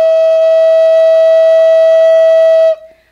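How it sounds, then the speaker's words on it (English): A single native flute note held on a steady stream of air, a pure, loud, unwavering tone lasting almost three seconds before stopping cleanly. "This is what it should sound like having a steady stream of air."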